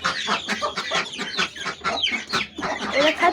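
Village chickens cluck busily while pecking at scattered rice, a dense, continuous run of close, overlapping clucks and squawks.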